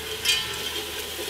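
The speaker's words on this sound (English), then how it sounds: "I just wanna whisk this in quickly." Heavy cream is whisked quickly into a hot, bubbly mixture for a fall coffee drink, giving a brief soft sloshing and scraping swirl with a light clink at the start.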